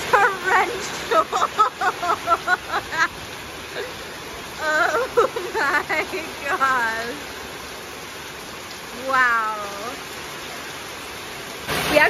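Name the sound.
torrential rain pouring down in Phu Quoc, Vietnam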